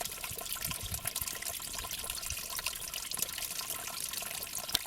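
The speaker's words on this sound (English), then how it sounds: "You won't find a fresher water source than this." Fresh spring water flows steadily from a natural source along a hiking trail, a continuous broadband rushing and trickling that runs close and alone without a break.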